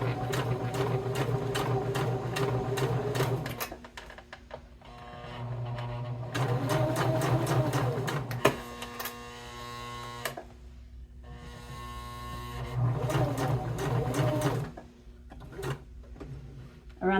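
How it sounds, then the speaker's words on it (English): A sewing machine runs in several steady bursts while stitching around a leather bifold wallet, pausing between runs with handling noises, and a voice speaks briefly in the gaps. "we're going to sew around our wallet."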